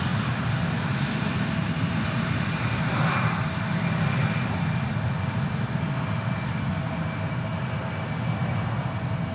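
An airliner at Dallas/Fort Worth International Airport roars steadily on the runway, a broad continuous engine rumble holding at constant loudness without a break.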